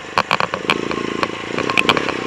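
A KTM 690 single-cylinder motorcycle engine bogs and putters at low revs while the rider is stalling, its uneven, lumpy pulsing close and loud, with sharp clattery bursts.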